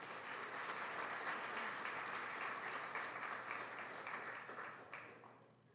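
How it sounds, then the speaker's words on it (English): Applause from a large audience at an adult degree program honors and graduation ceremony, a full, sustained roar of clapping that holds steady and then gradually tapers off toward the end. "So give yourself a round of applause."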